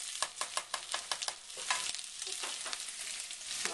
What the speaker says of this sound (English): Now we're adding in the carrots in this stage